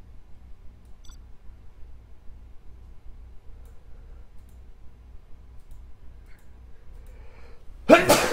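A single sharp sneeze bursts out loudly at the very end after several seconds of near silence with a faint low hum.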